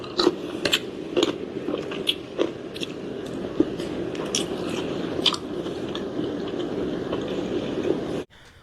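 Close-up mukbang eating: wet chewing and biting with sharp crunchy clicks and occasional utensil clinks over a steady background. The sound cuts off abruptly at the end.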